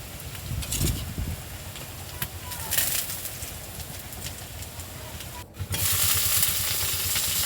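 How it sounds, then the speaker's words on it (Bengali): Chopped onion and garlic paste sizzle in hot oil with a steady hiss, joined by occasional stirring scrapes and a brief rustle, moderately close throughout. "তেলটা একটু গরম হয়ে গেলে কুচানো পেঁয়াজ, রসুন বাটা দিয়ে ভালো করে কষে নিতে হবে"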